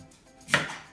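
A knife chops through sweet potato with a single crisp cut onto a board, close and clear against a quiet kitchen background.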